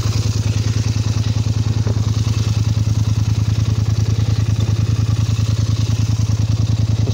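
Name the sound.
Polaris Sportsman XP 850 EFI quad engine running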